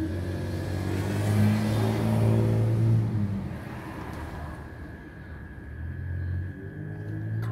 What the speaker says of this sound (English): Car coming, boys!